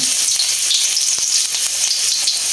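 Garlic fries in hot cooking oil, giving a dense, bright, continuous sizzle that stays loud and even throughout, with an occasional faint tick.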